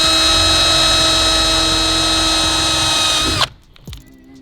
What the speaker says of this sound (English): So I'm going to go straight ahead, drill that hole